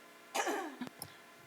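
A single cough from a person on stage during a panel discussion, sharp and close, followed by a brief throat-clearing rasp before quiet room tone returns.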